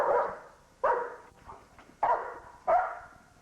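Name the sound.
dog barking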